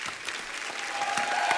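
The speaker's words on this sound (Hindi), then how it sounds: "एक बार जोरदार तालियां हमारे मेहमानों के लिए." Brief burst of studio audience applause on a comedy talk show, dense clapping that builds slightly over a second and a half.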